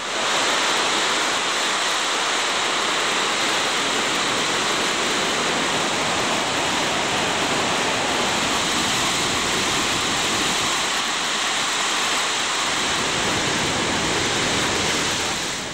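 A powerful waterfall roars continuously, a dense, loud rush of falling water with no breaks.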